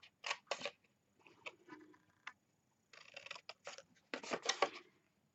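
Scissors snip the corners off a card-stock party hat gift card holder in a few quick, quiet cuts close by, with brief pauses between.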